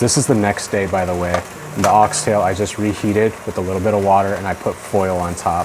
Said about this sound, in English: Just the sizzling of tortillas with oxtail.